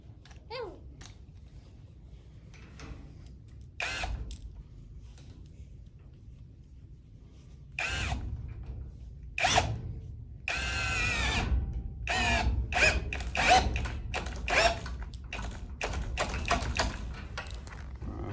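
Bursts of a power drill driving fasteners while building a barn stall from old hog panels, with short whirring runs and intermittent taps, clattering and handling noises, close and fairly loud.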